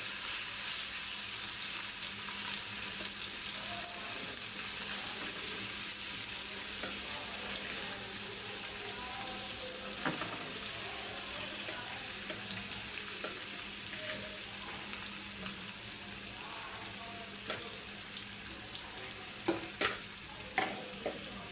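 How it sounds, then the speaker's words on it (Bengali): Small fish frying in hot oil with onion in a pan, giving a steady, fairly loud sizzle throughout with occasional stirring clicks and scrapes and no talking. "এখন আমি মাছগুলো আমি তেলের মধ্যে দিয়ে দিব। তেলটা অনেক ভালো করে গরম হচ্ছে।"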